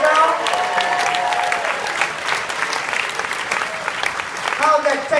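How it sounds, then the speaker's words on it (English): Audience applause and cheering at a live music show, with clapping from the crowd and voices and a few sustained tones mixed in. "how about a round of applause for everybody joining us on live stream right now?"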